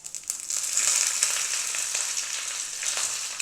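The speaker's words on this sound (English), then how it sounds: "And now I am adding the curry leaves and switching off the gas." Curry leaves hitting hot ghee with mustard seeds and a small red chilli for a pepper rasam tempering, giving a steady, loud, close crackling sizzle that holds evenly throughout with no voices.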